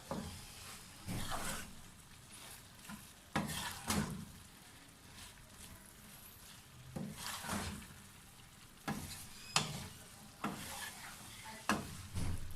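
Lobia (red bean) curry being stirred after dry coriander, ground garam masala and chopped green chilies are added, producing soft intermittent stirring scrapes and bursts over a quiet low bubbling sizzle, fairly faint, with no speech.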